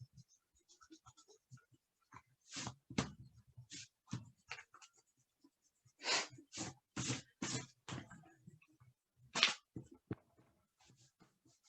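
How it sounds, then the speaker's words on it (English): A big eraser rubs over pencil lines on drawing paper, making a series of brisk, scratchy back-and-forth strokes in short bursts with pauses between them, close and quiet. "we're going to take our big eraser and we're just going to go over all of these spaces and get rid of any of the extra pencil lines"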